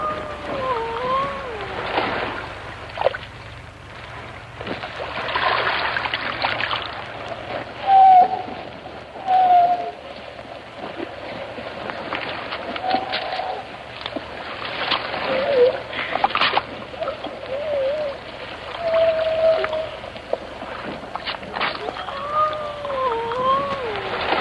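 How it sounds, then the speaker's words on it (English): Seals singing on a remote rock in the Atlantic give eerie, wavering hoot-like calls that rise and fall in several separate phrases over a breezy, hissy background. "Yes, the singing of seals."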